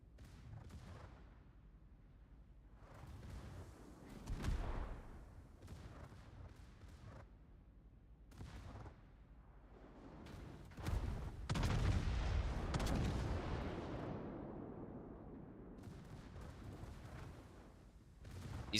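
Warship guns firing in World of Warships, a naval battle game, come as scattered heavy booms and rolling blasts, some sharp and close, others distant, with a loud sustained burst of fire near the middle.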